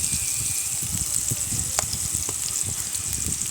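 Chopped onion, garlic and shrimp fry in oil in a pan with a loud, continuous sizzle and a hiss that barely changes. It is close up, with faint stirring movement underneath.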